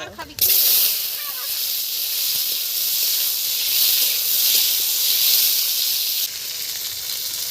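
Diced beans and potatoes dropped into hot oil in a wok with dried red chilli: a brief clatter, then a loud, close, continuous sizzling hiss that holds steady throughout.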